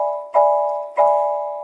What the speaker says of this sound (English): That's a major 7th chord.